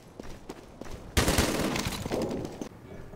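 Rapid machine gun bursts rattle in the World War II shooter Day of Defeat: Source, a dense crackling volley with scattered single shots before and after, fairly close.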